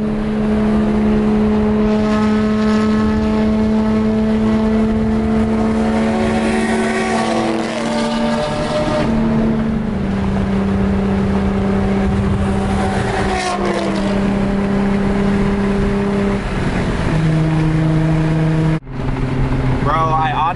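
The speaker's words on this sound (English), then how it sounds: "So they're about to go race right now" A Nissan 350Z, a Dodge Scat Pack Charger and a VW Golf race one another, their engines droning loudly with steady tones that rise and shift as they accelerate, over a constant background roar.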